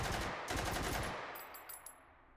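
A gun loaded with incendiary rounds fires one loud, rapid burst in the Hot Dogs, Horseshoes & Hand Grenades VR game, played on HTC Vive. A few light metallic clinks follow as the shots fade.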